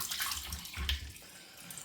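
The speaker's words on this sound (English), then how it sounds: "Rinse the face now with cold water." Tap water runs steadily into a sink for a cold water face rinse after a shave, a close continuous gush with splashing as hands scoop and rinse.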